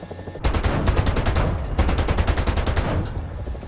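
Rapid bursts of 30 mm helicopter cannon fire in the War Thunder video game, two long strings of evenly spaced, loud shots separated by a brief pause, with no voice over them.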